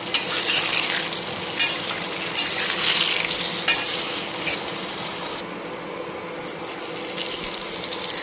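Eggplant pieces deep-frying in a kadai of oil give a steady, loud hiss and crackle, with metallic clinks and scrapes as the fried slices are lifted out. No one talks over it.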